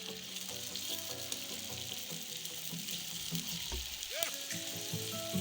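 Potatoes frying in a pan for a Spanish omelette (tortilla de patata), giving a steady, close, continuous sizzle that crackles throughout, with faint tonal sounds in the background.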